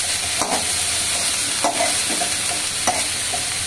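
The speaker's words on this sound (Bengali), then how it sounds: "আরখানা আলু দিলাম, বেশি দিব না" Potatoes frying in a pan sizzle loudly and steadily at close range, with a few scraping stirs spaced a second or so apart.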